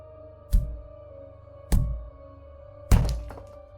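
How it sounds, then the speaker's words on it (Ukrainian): Three heavy, dull knocks at an even, slow pace over a low, eerie drone, like a horror-story sound effect of someone knocking three times at a door. "Опівночі стук пролунав гучніше."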